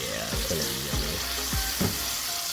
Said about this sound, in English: So we still got the steak cooking on 4.